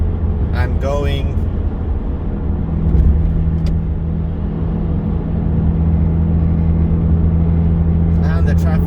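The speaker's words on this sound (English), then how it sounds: "Traffic for miles and miles. Keeps on going and going and going." Steady engine drone and road rumble from inside a car stuck in slow highway traffic for miles past roadworks, a constant low hum with someone talking over it.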